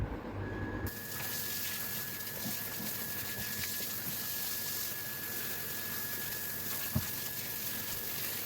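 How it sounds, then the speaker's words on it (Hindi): A strong jet of water blasts continuously onto the tray and parts of a split air conditioner during a wet service, a loud steady gushing hiss with a faint tonal pump whine underneath and one brief knock. "ट्रे धोते हैं, इन सारी चीज़ों को धोते हैं और यहाँ फिक्स करते हैं।"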